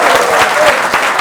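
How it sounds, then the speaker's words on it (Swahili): Studio audience claps loudly and steadily on a weekend comedy talk show, a dense burst of applause close to the microphone with no one speaking over it. "Wapi makofi yao?"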